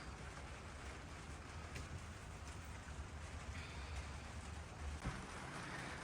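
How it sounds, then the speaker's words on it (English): Rain drums on the roof of a garden greenhouse workspace on an Alaskan homestead, a constant soft patter that holds steady and fills the space, with no talking. "you can hear the rain hitting the roof"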